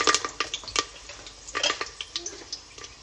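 Curry leaves sizzle and crackle in hot refined oil, with short irregular spits and pops close by and a few stirring clinks.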